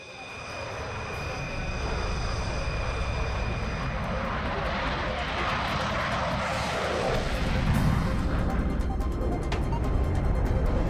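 A Rafale fighter jet flying with a loud, sustained engine roar that swells and holds steady, alone without speech.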